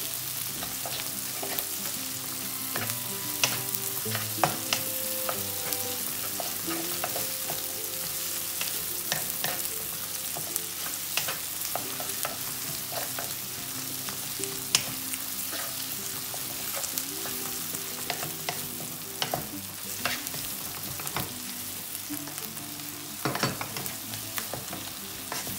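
Chicken and vegetables sauté with pepper paste in a pan, a continuous close sizzle punctuated by frequent stirring clacks and scrapes of a utensil throughout.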